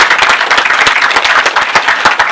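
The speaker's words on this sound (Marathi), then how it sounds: "जोरदार टाळ्या वाजवून आपण स्वागत करूया." An audience at a ceremony breaks into loud, brisk applause to welcome someone, a close, dense burst of many hands clapping throughout.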